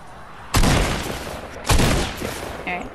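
Rocket launches and explosions in a video game, two big booming blasts about a second apart with long rumbling decays, loud and close, followed by a smaller crack.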